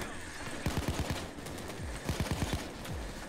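Rapid bursts of gunfire from Payday 2, a heist shooter, with a shield stuck glitched in a window; several quick volleys of sharp shots crackle in clusters against steady background game noise.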